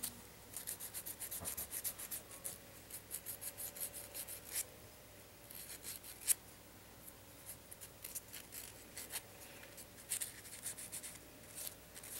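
A handmade exotic crochet hook has its sharp cut edge sanded smooth, heard as close, irregular scratchy rubbing strokes that continue steadily with small pauses and no voices.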